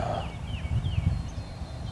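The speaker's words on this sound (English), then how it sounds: "these turkeys down here in front of us, they gobbled again" Wild turkeys gobble from nearby woods during spring turkey season, a few rapid rattling gobble calls rising over a quiet outdoor background with no talking.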